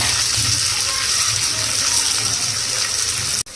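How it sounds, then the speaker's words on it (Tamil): Small onions hit hot oil while cooking a chicken dish, giving a loud, steady sizzling hiss that runs unbroken and alone before cutting off abruptly near the end. "அதுக்கப்புறம் சின்ன வெங்காயம் சேர்த்துக்கலாம்."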